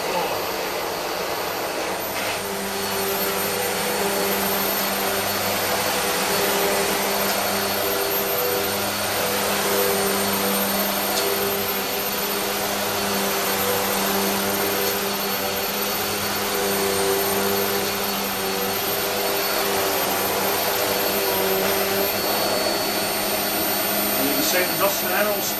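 A Vax Performance Floor to Floor U86-PM-TH upright vacuum cleaner from 2014 runs steadily and loudly throughout, a constant motor whine with a droning hum and occasional faint rattles of debris.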